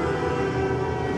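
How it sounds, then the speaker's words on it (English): A siren wailing in the background of a scene in the video game Life is Strange: True Colors, a brief steady tonal drone over a low rumble. "You can hear the siren in the background."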